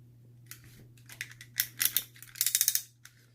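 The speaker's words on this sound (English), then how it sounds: "he's got the nice clickety ratchet joint going up and back" Ratchet joint on a FansToys Iceman transforming robot figure being bent, a close run of small sharp plastic clicks that speeds into quick bursts over a faint steady hum.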